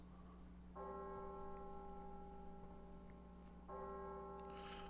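A tolling bell in the Fate Grand Order video game rings twice several seconds apart, each strike a sustained, fairly quiet tone hanging over a steady low background hum.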